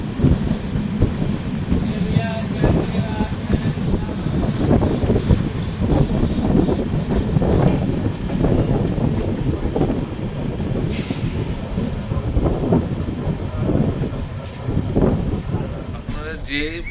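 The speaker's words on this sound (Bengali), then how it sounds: "আমাদের ট্রেন কিন্তু এখন সোজা আদ্রা ঢুকবে" The 13301 Swarnarekha Express rolls into Adra Junction with a steady, loud rumble and clatter of carriages, buffeted by heavy wind noise throughout.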